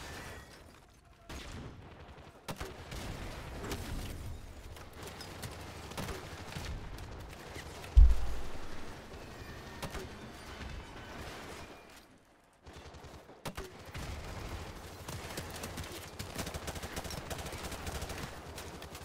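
Dense gunfire in Call of Duty: Modern Warfare, steady bursts running through most of the stretch with one sharper blast near the middle and brief lulls, no talk over it.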